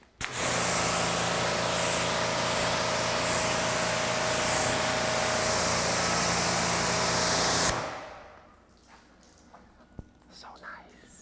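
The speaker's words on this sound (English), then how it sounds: "I'm just gonna spray water on it because it's only maybe 4 or 5 days old." Water sprays in a loud, steady hiss onto the freshly waxed paint of a Porsche 964 for about eight seconds, then cuts off to quieter handling sounds.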